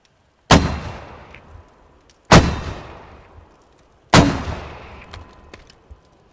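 Three heavy blasts of mortar fire in the game Squad, spaced about two seconds apart, each a sharp loud boom trailing into a rumbling decay, with faint clicks between.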